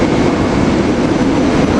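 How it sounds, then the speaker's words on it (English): Passenger train 3755 departing toward Trenton, a loud close steady rumble of rolling rail cars with a continuous low roar and no pauses. "Here we got something train 3755 heading off to Trenton."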